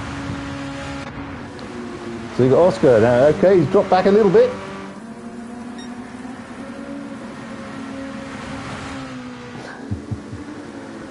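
Race car engines from a racing video game at Suzuka drone steadily at low level beneath a commentator talking over the action, with a brief burst of clicks near the end.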